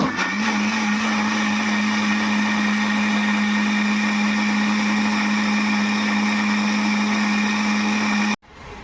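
A kitchen blender whirs loudly and steadily while blending a thick carrot milkshake with cold milk, a close, constant motor drone that stops abruptly near the end.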